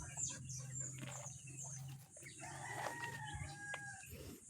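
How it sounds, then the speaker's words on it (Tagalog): A single caged rooster crows nearby amid a poultry yard, its call rising over steady background clucking and bird chatter, with a low hum underneath. "Ito po yung ating tandang na isa. Nakakulong lang."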